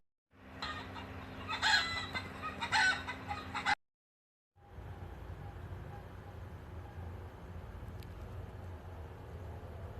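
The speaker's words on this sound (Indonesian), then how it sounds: "Selanjutnya ada hayam bikang kokotak." A hen clucks loudly and repeatedly against steady farmyard background noise, then after a short silence the ambient hum resumes without clear clucks.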